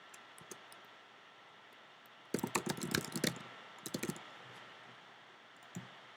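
Typing on a computer keyboard, a short burst of rapid key clicks followed by a few scattered taps and a last lone click, close and clear over quiet background hiss.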